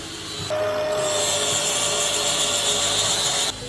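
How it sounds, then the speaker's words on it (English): Steady abrasive rubbing and scraping of pearl shells being sanded smooth, continuous for several seconds at moderate volume. "I've got some pearl shells that we're just sanding back and making nice and smooth"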